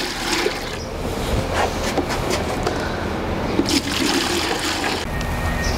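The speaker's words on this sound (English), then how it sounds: "Thoroughly mix the electrolytes." Electrolyte solution for calves is stirred and churned in a bucket of water, giving a steady, fairly close sloshing, rushing water sound throughout with no talk.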